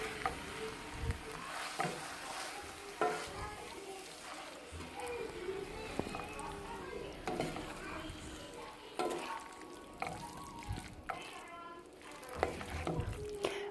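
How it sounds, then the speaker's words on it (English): Poblano rajas stirred in a pan sizzle softly, with scraping and clinks of a utensil against the pan, while a person talks over the cooking. "So now we're going to stir this in."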